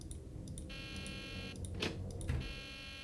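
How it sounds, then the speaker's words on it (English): Fire alarm blaring in the Nancy Drew: The Deadly Device video game, a continuous buzzing tone with faint clicks and brief bursts layered on top, soft and steady with no voices. "that's quite the alarm to wake up to"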